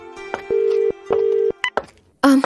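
Phone tones as a call back to a brother is placed: a few short beeps, then two steady held tones about half a second each, followed by brief blips and a louder burst at the end, with no talking.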